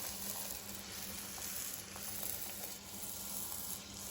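Dough for Chinese cha kwai (deep-fried bread) sizzling steadily in hot oil after a small test piece is dropped in, a dense continuous bubbling hiss that stays even and close throughout.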